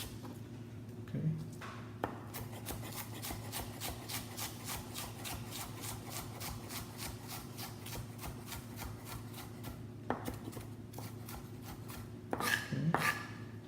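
Knife chopping onion on a cutting board for shrimp ceviche, a quick, even run of close, crisp taps repeating steadily for several seconds, with brief pauses and faint handling noises.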